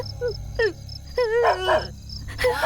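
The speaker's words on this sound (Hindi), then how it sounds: "कुत्ता।" A dog barks and yelps in several sharp, pitched bursts separated by short gaps, fairly close and clear over a low background hum, with no talking.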